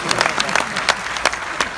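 Scattered clapping from a crowd at a Hindi comedy and poetry show, a brief patter of hand claps with a few louder individual claps.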